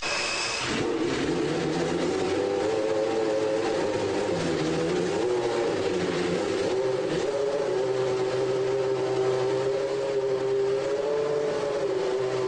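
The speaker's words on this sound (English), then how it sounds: "The overture will be sung by the RS4, the engine that gives the car its full name, the Williams Renault." A Renault RS4 V10 engine in the 1993 Williams Renault Formula 1 car runs with a sustained high-pitched tone, its pitch shifting up and down as the revs change, steady and alone without voices.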